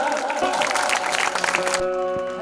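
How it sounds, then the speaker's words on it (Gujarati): An audience at a Shreemad Bhagvat Katha religious gathering claps, a dense wash of applause that carries on for a couple of seconds and then cuts off, leaving a lingering musical tone. "જોરદાર તાળી પાડીને બતાવો"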